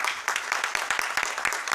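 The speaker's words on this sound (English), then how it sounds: "So round of applause for Dowlings real quick." A crowd at a town council meeting claps steadily, a dense, moderately loud patter of hands with sharp individual claps standing out throughout.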